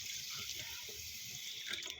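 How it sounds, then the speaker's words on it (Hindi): About half a litre of water pours into a pot holding roughly two kilograms of sugar to make syrup. A faint, steady hiss of flowing water lasts throughout. "ये तकरीबन 2 किलो चीनी है, तो इसमें मैं डाल देती हूँ जी तकरीबन आधा लीटर पानी"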